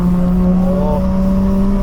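A chaser car's engine on a sighting lap, a loud, steady, close-up drone with a strong low hum and a slight rising tone, alone without talk.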